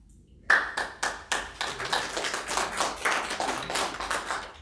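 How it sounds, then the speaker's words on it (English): Audience applause at a municipal pension reform event, breaking out sharply after a brief quiet and settling into steady, moderately loud clapping from a room of people, no voices. "Thanks for that applause."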